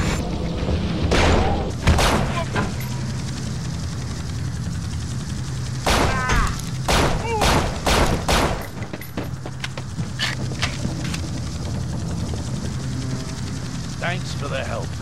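Gunfire bursts in the video game Urban Chaos on PS2, several sharp loud shots clustered early and around the middle, with game dialogue and a steady background hum throughout.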